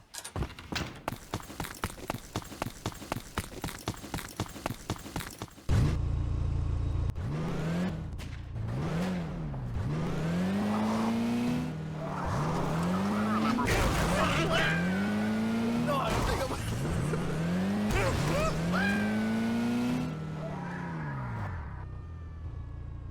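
In the video game Garry's Mod, rapid footsteps patter first, then a car engine starts and drives with repeated rising revs and gear changes, tires squealing at times, while someone talks over it.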